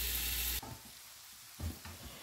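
Pork chops sizzle in a hot frying pan, a loud hiss that drops off abruptly partway, followed by quieter crackling and a few soft clatters from the pan.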